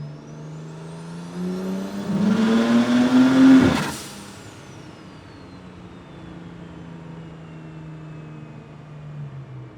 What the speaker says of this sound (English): these turbo noises alone make all the money worth it